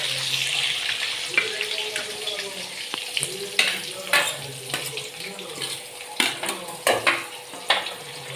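Onions, green chillies and curry leaves frying in a pan for chicken fry, a steady sizzle broken by repeated sharp scrapes and clanks of a spatula stirring against the pan.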